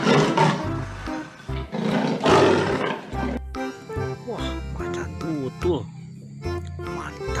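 A toy leopard gives out loud, rough growling roars in bursts, with a short electronic melody following near the end.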